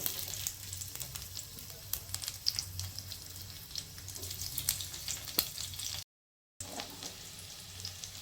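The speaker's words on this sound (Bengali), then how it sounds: "ভাজার তেলের মধ্যেই আমি রসুনটা দিয়ে দেবো" Garlic frying in hot oil left over from deep-frying chili chicken pakoras, a steady dense sizzle and crackle with scattered pops, close and fairly quiet, no talking, with a brief silent gap near the end.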